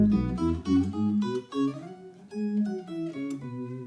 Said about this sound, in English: And now here's the sub second 2 octaves down sound.